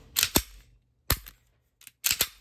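A Smith and Wesson CSX micro 9mm pistol gives several sharp, close mechanical clicks from its trigger reset, spaced out in small clusters with silence between.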